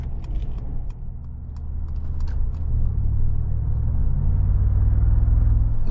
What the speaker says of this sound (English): Love that exhaust sound.